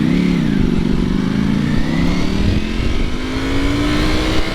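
A Ducati V4 SP motorcycle engine on a test ride, loud and close, its tone climbing smoothly as it accelerates through a gear with a steady powerful drone and wind noise.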